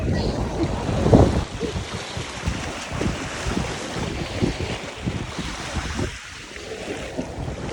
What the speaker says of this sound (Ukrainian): Боже, вітер такий